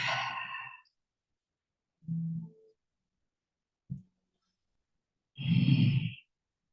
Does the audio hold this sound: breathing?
yes